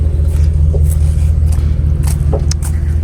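A car fully loaded with belongings to the back drives along a road, giving a continuous low, loud rumble with faint light rattles and no talking.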